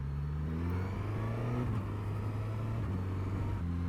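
A 2022 Suzuki GSX-S1000GT motorcycle rides slowly in a high gear, its engine a low, steady drone with slight shifts in pitch, close and moderately loud with no talking.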